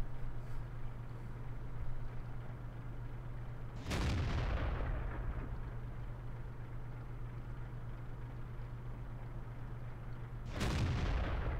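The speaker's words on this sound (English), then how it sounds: "Blind firing once again." Main gun of a Caernarvon tank in World of Tanks fires twice, several seconds apart, each a heavy booming blast with a rumbling tail over a steady low engine drone.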